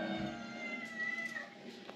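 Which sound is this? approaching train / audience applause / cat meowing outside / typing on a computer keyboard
cat meowing outside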